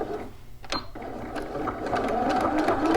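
A home sewing machine backstitches along a dart seam on a pair of shorts, starting with a brief stop-and-go then settling into a steady, close mechanical hum.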